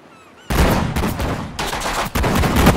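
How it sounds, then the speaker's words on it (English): Gunfire from the war strategy game Sudden Strike opens with a sudden loud burst, then rattles on in dense, rapid volleys with brief gaps between them, sharp and close. "目標に発砲せよ!"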